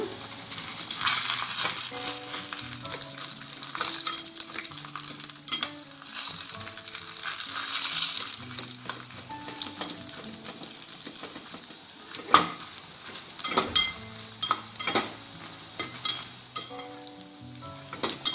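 Green chillies frying in oil in a pan while making hotel-style soft sooji idli, a steady crackling sizzle with occasional stirring clinks, heard alongside background music.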